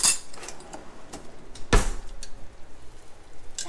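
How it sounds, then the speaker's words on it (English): A utensil scrapes and clinks against a pot of food in a home kitchen, with a few light taps and one brief louder scrape midway, heard close and alone without talk. "Let me stir it, and then I'll add the broccoli."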